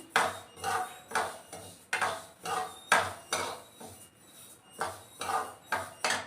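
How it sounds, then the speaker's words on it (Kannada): Ragi (finger millet) is dry-roasted in a pan over a medium flame, with close, rhythmic scraping and clinking strokes of a spatula against the pan, about two per second. "ಮೊದಲನೇದಾಗಿ ನಾನು ರಾಗಿ ಉಟ್ಕೋತಾ ಇದ್ದೀನಿ ಸ್ವಲ್ಪ ಸ್ವಲ್ಪನೇ ಹಾಕೊಂಡು ಉಟ್ಕೋತಾ ಇದ್ದೀನಿ ಮೀಡಿಯಮ್ ಫ್ಲೇಮಲ್ಲಿ ಇಟ್ಕೊಂಡು ಹುರ್ಕೋತಾ ಇದ್ದೀನಿ"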